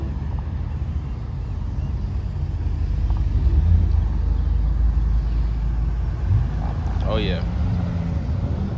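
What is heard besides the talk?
Audi cars driving past at car show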